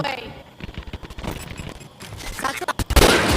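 Gunfire in the tactical shooter game Valorant, a loud close burst of rapid shots near the end, with a player talking excitedly over game noise throughout.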